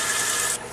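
Steady, close hissing rasp of a hand sander on wood that stops abruptly partway, leaving a quieter background.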